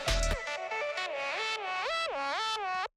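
Sustained ambient synth tones washed through two stacked reverbs in an Ableton effects rack, gliding pitch lines with a bright distorted edge, loud and steady for about three seconds before cutting off.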